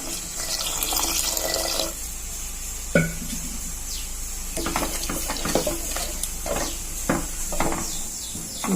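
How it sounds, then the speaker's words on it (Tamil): Water pours and splashes steadily into a cooking pot while making lentil sambar, then comes in shorter bursts with a few clinks of metal nearby. "போட்டுட்டு கொஞ்சம் தண்ணி சேர்த்துக்கலாம்"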